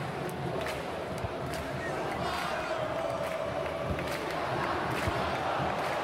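A stadium crowd of football fans in FIFA 23 during a Brazilian Série B match near full time, a dense continuous roar of cheering and chanting that stays loud and even throughout.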